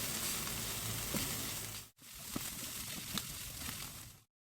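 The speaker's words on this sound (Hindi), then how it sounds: "गाजर को भी हम 2 मिनट तक अनियंस के साथ फ्राई कर लेंगे।" Carrots frying with onions in a pan for a creamy chicken samosa filling, giving a steady close sizzle throughout with a brief break near the middle before the hiss resumes and cuts off.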